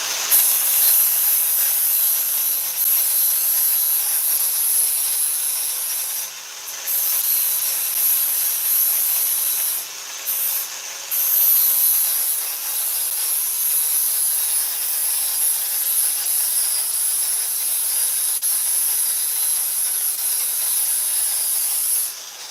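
An anvil's edge is dressed and rounded off with a steady, abrasive metal hiss. The sound carries on for over twenty seconds with a few brief pauses.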